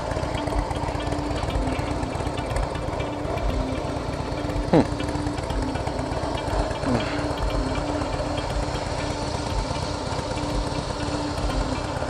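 A loud, steady engine roar from a 2017 Harley-Davidson CVO Pro Street Breakout with a 110 Screaming Eagle Stage 2 engine, constant rumble and wind-like noise, heard while riding at speed.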